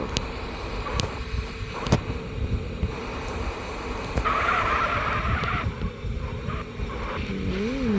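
A vehicle brakes hard in a long skid, the tyre squeal rising and wavering over a running engine and road noise, fairly loud and close, with a few sharp knocks along the way and no speech.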